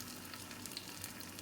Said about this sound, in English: Fry.